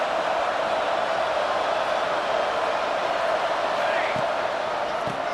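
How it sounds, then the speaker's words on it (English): Football stadium crowd at a college game rising to cheer on the defense, a dense continuous roar heard at a distance, with a voice talking over it. "And this crowd coming to life here, trying to help the defense get a stop with the offense pinned back."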